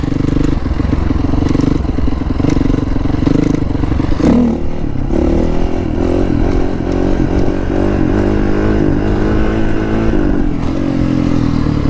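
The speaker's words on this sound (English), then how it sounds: "Just kept going across the gravel. Let's go. Perks of having a dirt bike." A dirt bike rides across gravel, its engine droning steadily up close and loud for the whole stretch, with a brief pitch shift midway as the throttle changes, and gravel scraping and clattering underneath.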